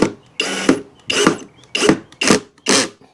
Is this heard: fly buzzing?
no